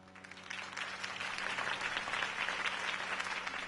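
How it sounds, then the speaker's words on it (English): A crowd applauds Harvey Dent's campaign speech in the Batman Telltale Series video game, a broad wash of clapping that swells gradually and holds steady over a low background hum. "If only Mr. Wayne, my campaign's largest backer, could have heard that applause"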